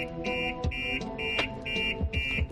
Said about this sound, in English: If the system's now set, the alarm's going off